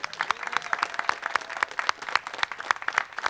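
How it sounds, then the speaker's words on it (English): An audience at a press conference on workforce education gives a round of applause, with close, crisp, uneven hand claps pattering steadily for several seconds. "And can we just give Irakli another round of applause?"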